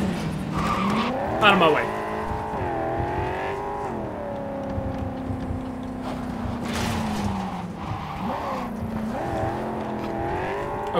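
Car engine in Cyberpunk 2077 revving and shifting pitch with tire squeal and skids, loud and steady across the clip, with someone talking over it.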